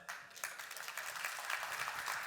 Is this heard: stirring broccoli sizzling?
no